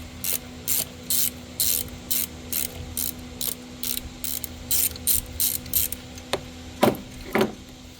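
Rapid bursts of ratchet clicking from a hand wrench working loose the idler pulley bolt on a 2000 Chevy Blazer, a string of regular close strokes followed by a few heavier, separate pulls at the end.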